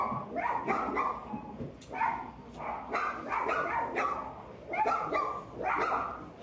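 A dog barks in short, repeated bursts, six or so loud yaps in quick groups with brief whimpering between, close by and with no talk.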